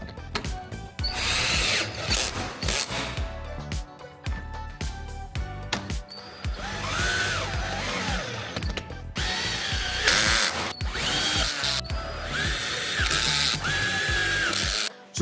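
A power drill tightens the bolts on a Korniche roof lantern in repeated whirring bursts. Close and loud, the bursts mix with ratcheting clicks and short pauses between runs.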